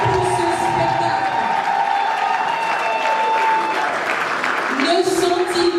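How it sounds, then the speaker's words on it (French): Wedding guests at an evening reception applaud the couple, a broad wash of clapping and some cheering from a crowded room while music plays underneath throughout. "j'aimerais aussi que vous puissiez leur donner des applaudissements exceptionnels pour ce spectacle."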